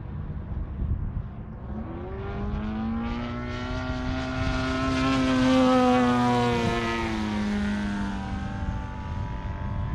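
An Extreme Flight Laser RC airplane's electric propeller motor drones as it flies past, its whining pitch rising and falling smoothly and swelling louder midway before fading a little, with no talking.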